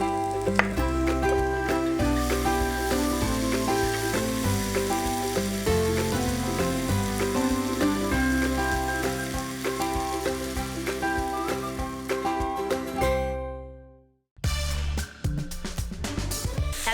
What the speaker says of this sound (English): We'll add them to the onions and cook them down until they're really soft and mushy.